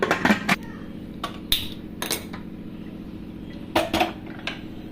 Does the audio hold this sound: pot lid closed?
yes